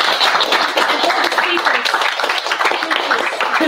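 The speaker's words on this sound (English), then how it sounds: "A big round of applause for them." An audience at an AI and machine learning speakers' event applauds, a dense, steady wash of clapping from many hands that fills the whole stretch at close range.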